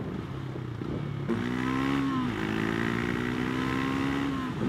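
A Triumph Scrambler 400x fitted with a Fuel X Autotune revs up, its engine note climbing and holding steadily under heavy wind rush, loud and close while riding.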